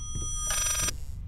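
A telephone rings inside the horror video game Layers of Fear, one short burst of bright electronic bell tone in the middle of the clip over a low rumbling ambience, with no talking.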